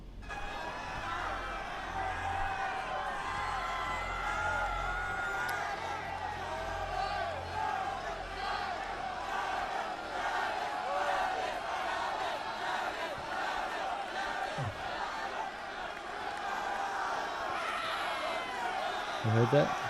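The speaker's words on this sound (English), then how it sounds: "you hear a bunch of screaming" A crowd screams and yells at a deadly event, a dense sustained wall of distressed voices from many people mixed together, with occasional sharper shouts rising out of the din.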